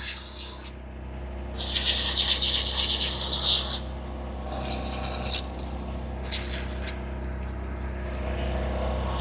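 A spray bottle of cleaner hisses in three bursts, the first longer and the next two short, separated by quiet pauses, close and crisp.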